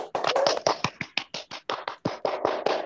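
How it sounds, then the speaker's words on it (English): A small audience claps for a storytelling contestant at a bilingual Aliyah-level competition at an Islamic boarding school, with uneven hand claps rattling close by for about three seconds. "once more give applause for Maura Angayomi."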